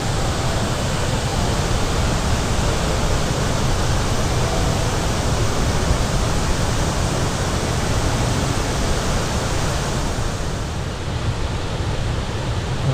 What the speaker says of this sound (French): Donc nous nous retrouvons sous la cascade de la Pisse.